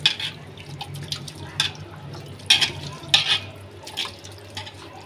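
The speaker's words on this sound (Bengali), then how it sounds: "তো বন্ধুরা, এখন আমি এগুলো সবগুলো ভালো করে মাখাই নেব।" Wet squelching and slapping as marinated meat for kacchi biryani is kneaded by hand, in several irregular bursts over a steady low background hum, close and fairly quiet.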